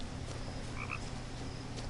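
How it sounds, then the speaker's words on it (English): A small frog gives a couple of quick, faint croaks beside a pond in the video game What Remains of Edith Finch, set against a low, steady ambient hum. "I hear a tinier frog."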